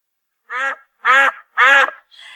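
Several loud, nasal duck quacks in a farmyard setting, three strong calls spaced about half a second apart, then a fainter fourth, with no talk over them.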